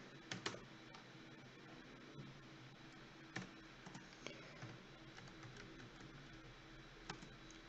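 Faint, scattered keystrokes on a computer keyboard as a router configuration command is typed in Cisco Packet Tracer, with irregular clicks and short bursts over a quiet background.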